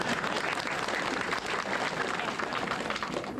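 A crowd at a wedding gathering claps loudly and continuously, a thick even wash of many hands with no pauses.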